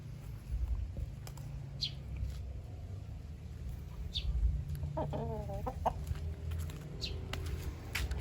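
Thai native red chickens, a pure Thai breed, cluck and call at a farm, with scattered calls and one clear warbling cluck near the middle over steady low rumbling background noise.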